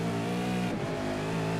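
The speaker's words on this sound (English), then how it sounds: "Smart just lit up the rear tyres there." V8 race car at Sebring spinning its rear tyres under hard acceleration, a loud steady engine drone with a brief rough shift in pitch midway, no talk.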